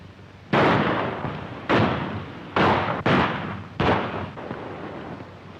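Five loud, echoing gunshots from a shooting contest in a 1936 western, fired about a second apart, each a sharp crack trailing off into reverberation.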